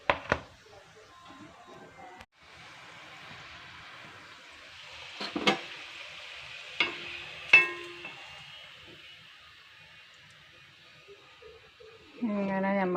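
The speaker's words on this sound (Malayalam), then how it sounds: "ഇനി നമുക്കിത് പത്തിരി പ്രസ്സിലിട്ട് അമർത്തിയിട്ട് പൊരിച്ചെടുക്കാം" Rava puris pressed flat in a pathiri press fry in hot oil, a steady close sizzle with a few sharp clanks and knocks of a utensil, and a voice comes in briefly at the very end.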